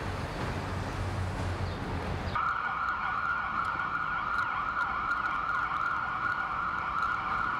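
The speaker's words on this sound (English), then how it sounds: "The sounds of the emergency vehicles going" A steady wailing siren sounds from a passing emergency vehicle in New York, starting after a stretch of background noise and holding loud and continuous.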